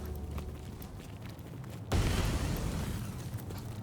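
Explosions in the video game Divinity: Original Sin: a low steady rumble gives way to a sudden loud broadband blast partway through, followed by a sustained heavy roar until the end.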